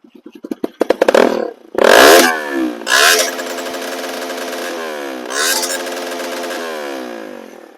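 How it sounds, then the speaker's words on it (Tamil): An NS200 motorcycle modified to resemble a KTM Duke 390 is revved hard up close. Loud, rising and falling throttle bursts come one after another, each with a rasping exhaust roar, and a short idle clatter sits between them. "இனி நம்ம RPM த்ராட்டில் பண்ணி பார்ப்போம் எப்படி சவுண்ட் இருக்குன்னு"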